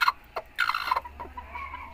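A broody hen, an Aseel-setup bird sitting on eleven Java eggs in Tando Allahyar, gives several short, throaty clucks and murmurs at close range, broken by brief quiet gaps.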